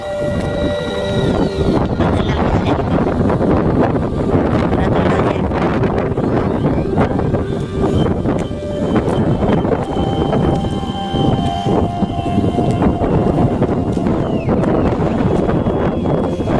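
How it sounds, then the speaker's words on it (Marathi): Strong wind blows steadily at the Badami cave temples in Karnataka, a loud, continuous roar buffeting the microphone the whole way through, with faint tonal hums underneath. "वाऱ्याचा आवाज तुम्हाला इथे नक्कीच येत असेल एवढा वारा आहे"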